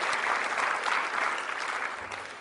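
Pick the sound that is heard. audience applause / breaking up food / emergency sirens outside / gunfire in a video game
audience applause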